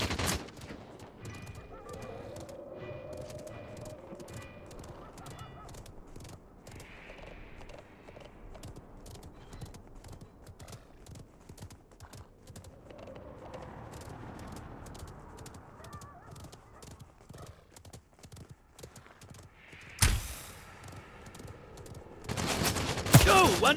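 Gunfire bursts in the battle royale game Realm Royale, rapid cracking volleys scattered across a busy mix with galloping hoofbeats from a mount, growing louder and denser near the end.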